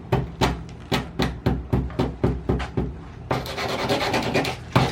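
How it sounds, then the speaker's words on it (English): Close, rhythmic sanding strokes rasp back and forth about a dozen times on an Acura RSX car body, then blur into continuous rubbing before one final stroke. "Are you basically done sanding the car or no?"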